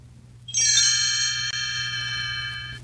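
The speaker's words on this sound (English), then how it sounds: "You will know it is time to turn the page when Tinker Bell rings her little bells like this." Small bells give a single bright, shimmering chime that rings clear and close, then fades slowly over a quiet low hum, marking a page turn in a Jungle Book read-along.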